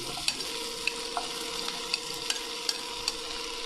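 Tomatoes and onions stirred into frying spices in a pan, a steady close sizzle with light scraping clicks of the spoon at regular intervals, no talking.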